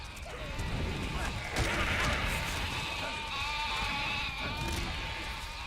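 Sheep bleat repeatedly in the Overlord video game, several overlapping wavering cries over a busy, rumbling game soundscape, fairly loud and close, with a voice talking underneath.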